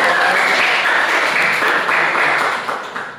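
Dense, steady applause from a group in an online class, loud and close, sustained for a few seconds before tapering slightly at the end.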